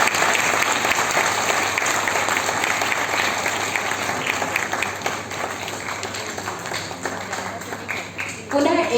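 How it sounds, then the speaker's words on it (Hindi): An audience at a welcome ceremony claps steadily for guests being greeted at a community event, the applause continuous and dense throughout with voices mixed in beneath it. "मित्रों जब तक स्वागत चलता है कम से कम तालियों से भी स्वागत किया जाए।"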